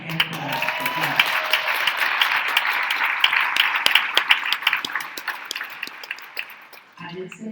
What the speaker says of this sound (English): So let's give them a hand clap for that.